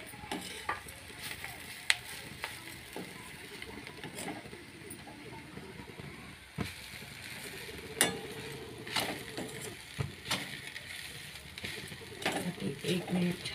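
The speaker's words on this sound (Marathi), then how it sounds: "एक मिनिट छान परतवून घेते मी" Roasted poha being stirred and tossed in a pan for a crisp Maharashtrian breakfast dish, with scraping strokes of a spoon against the metal at an irregular rhythm and a faint background sizzle, close and moderately loud.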